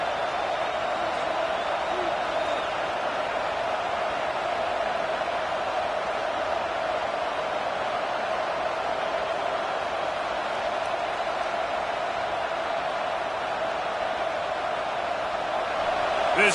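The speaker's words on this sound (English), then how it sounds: "This crowd rising up, sensing that its defense needs some help." Stadium crowd in College Football 26 giving off a broad, steady roar that swells slightly and hums on without break, a distant wash of massed voices filling the background.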